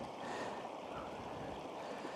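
Motorcycle boots wading calf-deep through water, giving a steady, close swishing and sloshing that runs throughout with a faint windy hiss.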